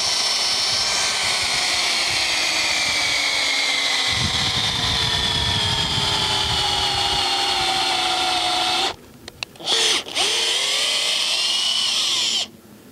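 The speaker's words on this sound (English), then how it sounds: "To take the sample, you would draw right through the center of the bale and drill through." A hay core sampler is driven through the center of a bale by a loud power drill, whose motor whines with rising and falling pitch for about nine seconds before stopping briefly and starting up again.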